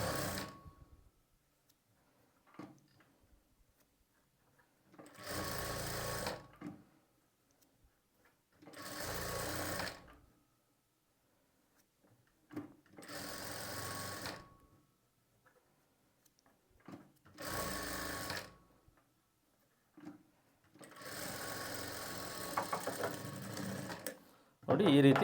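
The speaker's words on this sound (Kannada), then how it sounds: "ಫೋಲ್ಡ್ ಮಾಡಿ ಮೇನ್ ಫ್ಯಾಬ್ರಿಕ್ ಮೇಲೆ ಎಡ್ಜ್ಗೆ ಹೊಲಿಗೆ ಹಾಕ್ಕೊಳ್ಳಿ" A sewing machine stitches the folded edge of fabric onto a main piece in five or six loud whirring bursts separated by quiet pauses, with a voice speaking softly in between.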